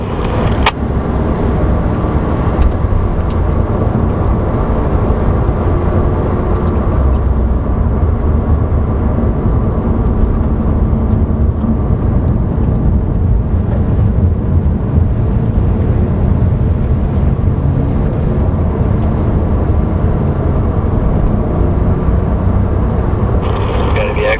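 Porsche race car engine running at steady throttle on a racetrack, a loud continuous low drone of engine and road noise with no breaks throughout, heard from inside the car.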